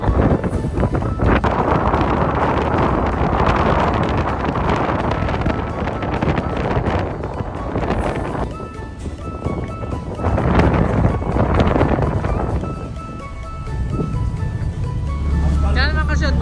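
Strong wind buffets the microphone on a rough boat trip toward Roxas past Boracay, a continuous loud roaring rush with surging gusts and voices talking beneath it.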